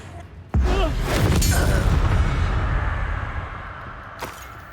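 A Confringo blasting curse explodes in the Hogwarts Legacy video game, one sudden loud boom followed by a long rumbling decay over several seconds, with a faint sharp crack near the end.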